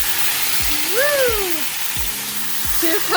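Rice toasting in a hot pan gives a steady close sizzle, with a few soft scraping strokes from stirring and a brief whistling tone partway through, and no talk.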